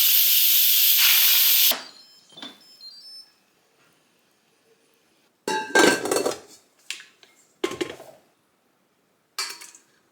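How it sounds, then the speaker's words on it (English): A pressure cooker holding cooked chicken vents steam in a loud, steady hiss that cuts off after a couple of seconds, followed by quieter clinks of pots and utensils in a kitchen. "The chicken is done cooking in the pressure cooker, so now I'm going to release the steam"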